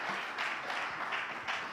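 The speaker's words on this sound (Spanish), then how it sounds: "Give Him a round of applause." Applause fills a church service, a dense, steady wash of many hands clapping without a break, moderately distant and reverberant, with no speech over it.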